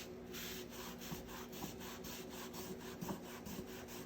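Steady back-and-forth rubbing of a cloth over a painted wooden board, faint and close, an even rhythmic scrub about twice per second.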